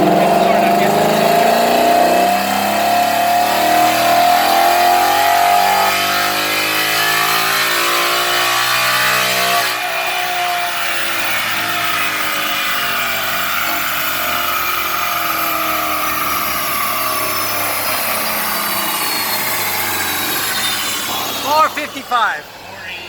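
A 2018 Ford Mustang GT running on E85 revs hard through the gears on a dyno, a loud close engine roar rising in pitch before a clear shift, then winding down near the end.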